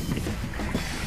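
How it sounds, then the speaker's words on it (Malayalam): A boat turning circles on the sea off Qatar gives a low, continuous engine rumble mixed with water wash and wind buffeting the microphone, steady and close. "അങ്ങനെ സിജോബായി ബോട്ട് കറങ്ങിയാണ്"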